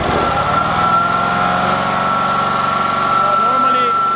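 An Amtex Prowler 2533 engine runs close and loud at a steady idle, a continuous mid-pitched drone with a faint whine, while someone talks over it.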